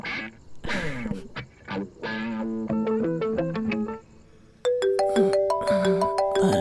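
A mobile phone ringtone plays for an incoming call indoors at home, a bright electronic melody of repeated tones that grows louder and denser partway through, heard clearly with no talking over it.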